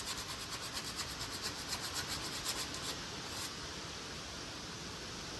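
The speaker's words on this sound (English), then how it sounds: "I'm basically going to hit all the spots I can touch with the sander" A power sander rubs over chainsaw-carved wooden bird cabins in rhythmic, close scraping strokes for about three seconds, then settles into a steadier, softer hiss.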